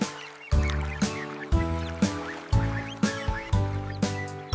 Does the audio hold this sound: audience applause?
no